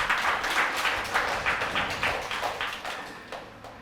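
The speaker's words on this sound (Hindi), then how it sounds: "ताली बजाओ इसके लिए।" Audience clapping during a Hindi mono-acting drama stage show, a rhythmic run of claps that gradually fades over a few seconds.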